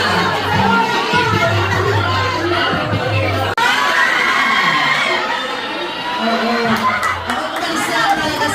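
A crowd of people at a Jollibee party game in the Philippines shouts together in a loud, sustained burst of mixed voices, with chatter and children's cries running throughout.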